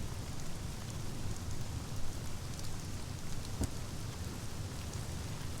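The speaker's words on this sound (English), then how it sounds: "On the third day it rained." Steady, dense rain falls without pause in the Sunless Skies video game, a continuous hiss with a faint rumble of thunder beneath and one brief crackle partway through; no one speaks.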